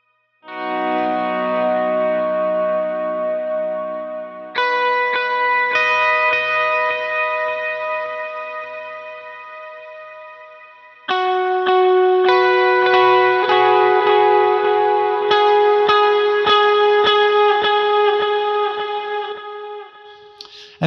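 Lead guitar part played with effects and light drive, sustained ringing notes and slow bends that swell and decay, washed in echo and reverb, loud and alone.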